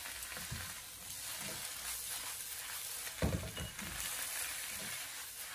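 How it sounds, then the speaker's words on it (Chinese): Cabbage leaves stir-fried in a wok over high heat, with a continuous loud sizzle and several quick tossing and scraping strokes, one sharper clank near the middle. "然后将菜叶给它放进来，然后继续的开大火将它快速的翻炒均匀"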